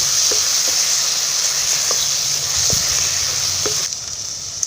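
Manathakkali (black nightshade) berries dry-roasting in a pan, a steady soft sizzle with a few light taps and stirs, close by, easing slightly near the end.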